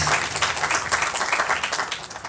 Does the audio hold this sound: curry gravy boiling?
no